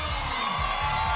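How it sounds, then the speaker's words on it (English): A crowd at a climbing World Cup flower ceremony in Villars, a brief burst of steady cheering and whooping, loud and continuous, with no single voice standing out. "Janja Garnbret takes the applause from the crowd for the flower ceremony"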